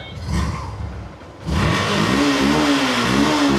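A vehicle engine offered for sale is revved, quiet low rumble for the first second and a half, then a sudden loud, sustained rev with a rising and falling pitch, close by and without talk.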